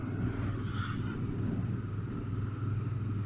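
Royal Enfield Interceptor 650 motorcycle riding along a road, a steady low engine drone with constant rumble and wind, moderately loud and continuous with no talk.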